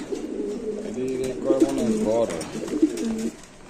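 Grizzle pigeons at a pigeon sale coo in close, repeated throaty rolls that rise and fall across the whole stretch, with a steady low background murmur.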